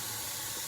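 Brief close hiss of a spray bottle misting a glass surface being etched with Armour Etch, a single short burst of fine spray with no voices.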